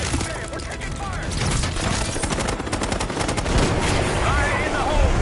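Dense, continuous gunfire and machine-gun bursts in a Black Ops 6 firefight while under attack, loud and sustained with overlapping shots, mixed with battle chatter and a voice speaking.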